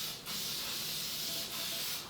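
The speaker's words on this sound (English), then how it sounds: "I go ahead and spray my loaf pan with cooking spray" Two steady hissing bursts of cooking spray from an aerosol can onto a loaf pan, close up, the second longer and continuous, with a brief pause between them.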